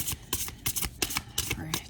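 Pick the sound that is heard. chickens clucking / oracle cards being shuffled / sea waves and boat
oracle cards being shuffled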